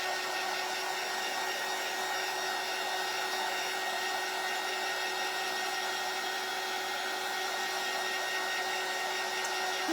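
A hair dryer runs steadily on napkin art decoupaged onto a bunny shelf sitter craft piece, a continuous close, even whooshing whine with no pauses and no talking.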